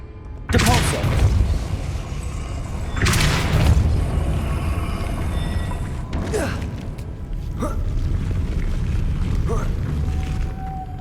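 A Depulso spell cast in Hogwarts Legacy: loud whooshing bursts with deep booms and mechanical creaks, several blasts spread across a dense, continuous game soundscape.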